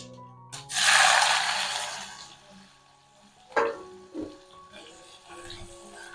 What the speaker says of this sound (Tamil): இப்போ கொஞ்சம் எண்ணெயில் வதங்கட்டும்.